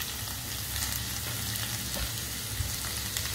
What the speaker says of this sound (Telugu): మీద గిన్నె పెట్టి అందులో ఈ ముక్కలు వేసి,